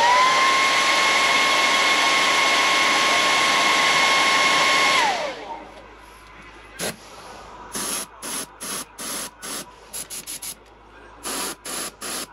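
A heat gun runs steadily to set airbrushed paint on a swimbait, with a loud continuous blowing whine that cuts off, followed by a series of short sharp bursts of airbrush spray.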